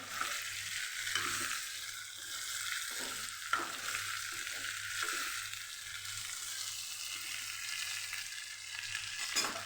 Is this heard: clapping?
no